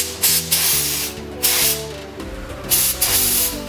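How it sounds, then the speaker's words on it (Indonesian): A paint spray gun on a compressed-air line, adjusted for test coats on a boxy Suzuki Karimun, lets out a series of brief hissing bursts in an uneven rhythm, close and fairly loud, over a steady humming background. "Jadi ini kita tinggal semprot, kita colok ke angin"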